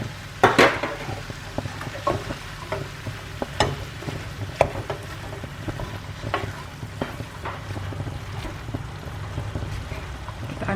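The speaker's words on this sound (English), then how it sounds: "the meat's just starting to brown" Minced meat browning with courgette and yellow pepper in a pan makes a steady sizzle, with a louder clatter of stirring near the start and scattered utensil scrapes throughout.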